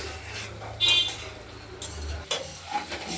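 A spice masala with melted tomato is stir-fried in a pan, quiet scraping strokes of a spatula over a faint sizzle, with a couple of sharper clinks against the metal.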